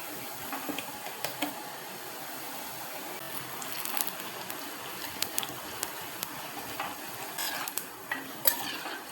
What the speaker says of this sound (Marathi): लसूण पण आपण फ्राय करून घेतली आहे.